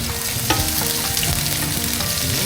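Onion, garlic and chicken frying together in a pan, with a steady dense sizzle and a few stirring scrapes, close and continuous with no talk.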